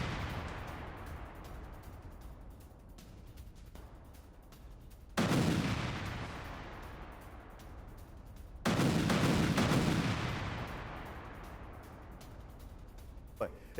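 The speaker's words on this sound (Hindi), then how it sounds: "आईडी के जरिए हमास के बेस पर धमाका" Two heavy blasts from a strike on a Hamas base in Israeli military footage, each a sudden loud boom decaying into a long rumble, over a steady background hiss.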